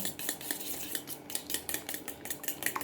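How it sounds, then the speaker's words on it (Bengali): A spoon briskly mixes egg, ghee and powdered sugar in a bowl, producing rapid, rhythmic clinks and scrapes of metal against the dish, close and fairly quiet with no voices. "একটা চামচ নিয়ে নিয়েছি আর এই চামচের সাহায্যে এটাকে আমি আগে ভালোভাবে মিশিয়ে নেব"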